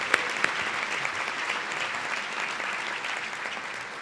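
Audience applause at an ATHENA Young Professional Award ceremony for women honorees: steady, full-room clapping from many hands, fairly close and continuous for the whole stretch, with a couple of sharper claps near the start.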